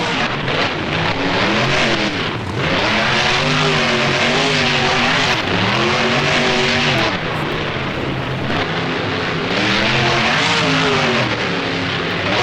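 A loud, droning monster truck engine roar rises and falls in repeated revving sweeps in the racing game BeamNG, continuous throughout.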